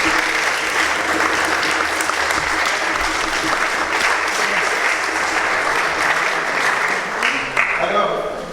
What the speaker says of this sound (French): Donc, applaudissons les parents.